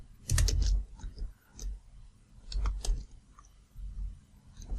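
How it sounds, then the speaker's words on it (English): Fingers type on a computer keyboard in quick clustered bursts of clicks separated by short pauses, close and clear, with no voices. "I'll go ahead and start typing them out"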